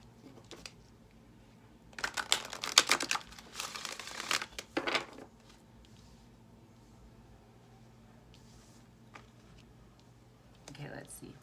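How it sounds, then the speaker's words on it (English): Quick papery shuffling and riffling of oracle cards in a couple of bursts, close by, with quieter handling sounds and faint background between. "I'm just going to give this 3 shuffles,"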